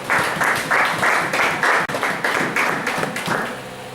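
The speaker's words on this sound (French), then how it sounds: "Acclamons pour la parole de Dieu." A church congregation at an evangelical service breaks into loud, rhythmic clapping, a close, steady beat of many hands held for several seconds before easing off.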